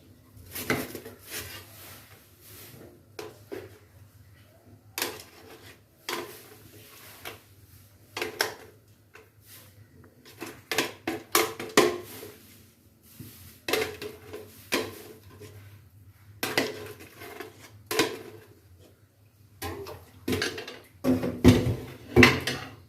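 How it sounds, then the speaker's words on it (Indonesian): Steamed glutinous rice tipped into a pot of boiling coconut milk, with intermittent scraping, clattering and thuds of utensils against the pot in a home kitchen, close and moderately loud. "Setelah mendidih, kita masukkan beras ketannya yang tadi pengukusan tadi."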